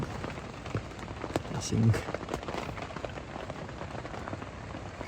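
Rain patters steadily on surfaces at a windy riverside campsite on the Silver River at night, a continuous wash of drops, with a brief spoken word partway through.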